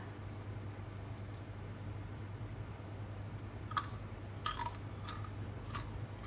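Crunchy deep-fried squid tentacles being bitten and chewed: a handful of brief, crisp crunches close by, spaced irregularly over a quiet background hum.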